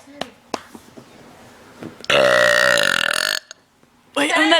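A girl burps loudly and at length, one long, rough burp followed by a shorter one, with small clicks and breaths between, all close to the listener.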